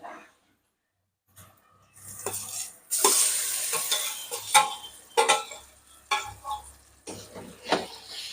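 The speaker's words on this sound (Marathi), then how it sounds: "वांग परतून घेऊ कोथंबीर टाकायची आणि भरीत परतून घ्यायचं" Chopped eggplant bharit sautéed and stirred in a pan on a full gas flame with coriander, giving soft sizzling and repeated scraping stirs that come in bursts after a short quiet start, close and moderately loud.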